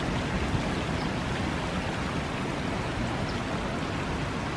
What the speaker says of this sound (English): I think this makes the hike so much better when there's water running down the hills